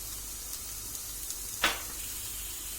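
Grated onions drop into hot oil in a pan for lentil köfte, giving a steady, quiet sizzle with one sharp hissing burst partway through, close and alone with no talking.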